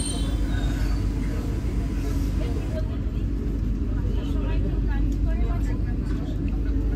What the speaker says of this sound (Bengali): এই যে পাশের তিরুপতি সাঁতরাগাছি এক্সপ্রেস আর আমাদের ট্রেন দুটোই পাশাপাশি চলেছে, একদম সমান্তরাল রেখায়।